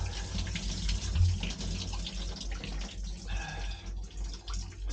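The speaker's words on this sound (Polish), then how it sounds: "Z tej słuchawki jednak woda idzie dużo większym strumieniem" Water streaming from a shower head inside a camper van, a steady close hiss and splash with no talking.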